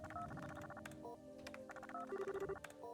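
A phone call chimes in a video game as a repeating electronic ring tone, a short pattern of bright beeps sounding twice over quiet game music, ending in a quick run of pulsed tones.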